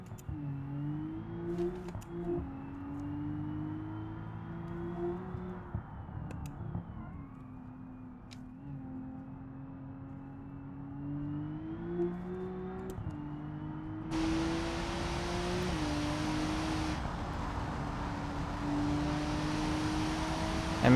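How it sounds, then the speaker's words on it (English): Car engine with a low, diesel-like drone inside a game, rising and falling in pitch as it revs steadily for about twenty seconds, with a louder broadband rush in the later part and no talking. "Why does it sound like a diesel now?"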